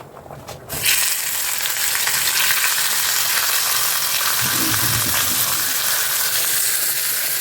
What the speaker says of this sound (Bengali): এখন এই যে দুটো মাছ ভাজবো।